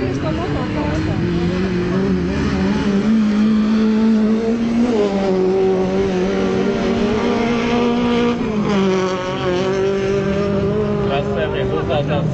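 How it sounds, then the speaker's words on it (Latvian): White Lada Zhiguli race car competing in an autocross race, its engine droning loudly and steadily with rising and falling pitch as it revs through the run, with a commentator talking over it throughout. "Vadībā redzam baltais Žigulītis, 11. numurs, Ivans Kalmeņskis."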